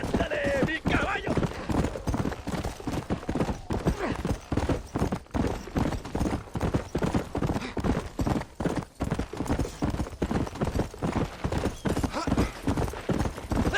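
A horse galloping hard in the Red Dead Redemption video game, a fast, continuous clip-clop of hooves with an occasional whinny, while voices and game sounds carry on over it.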